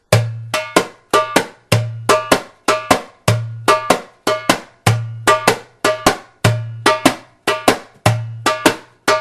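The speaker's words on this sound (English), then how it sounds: "Number 4 is based on the malfouf that you play that sounds like this." A repeating malfouf percussion rhythm of sharp, bright strikes, a low deep hit followed by quick lighter taps, cycling steadily and loudly with no talking.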